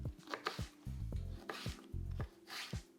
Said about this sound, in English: So cutting them in like little pieces, like everything into small pieces.